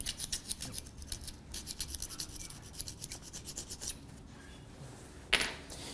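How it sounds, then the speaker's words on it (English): Rubbing and wiping across a pump rotor's surface while it is cleaned, a steady scraping rasp repeating in quick strokes for several seconds, fairly close and moderate in level, followed by one brief sharper scrape near the end. "Of course, we have to clean up also the rotor."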